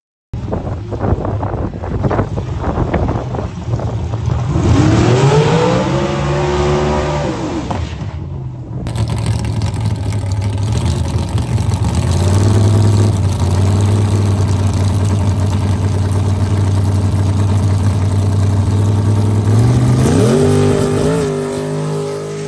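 A race vehicle with a newly fitted engine makes a test pass: a loud engine roar climbs in revs, then holds a sustained drone under heavy wind buffeting before rising again near the end.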